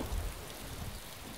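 Heavy rain in the DayZ game falls as a dense, steady hiss, with a soft low rumble at the start.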